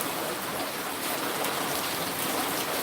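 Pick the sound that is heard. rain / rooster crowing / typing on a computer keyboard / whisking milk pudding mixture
rain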